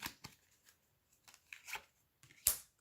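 A deck of tarot cards is cut and handled close by in a quiet room: a few soft papery slides and taps, ending in one sharper snap of cards.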